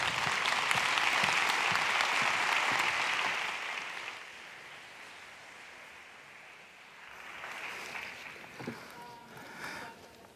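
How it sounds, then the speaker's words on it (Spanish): Dense applause from a conference audience swells for a few seconds, then fades to quiet room noise before a lighter patter of clapping returns. "un fuerte aplauso para ellos."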